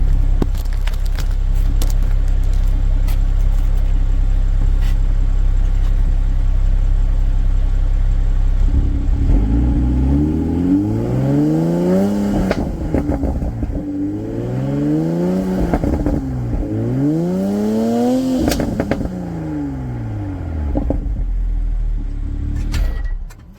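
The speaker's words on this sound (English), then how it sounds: "we're gonna check out the stock downpipe sound" A Toyota Supra MKV with its stock downpipe idles with a loud rumble, then revs up and down several times in rising and falling sweeps, close and loud.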